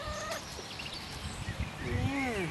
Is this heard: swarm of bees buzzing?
no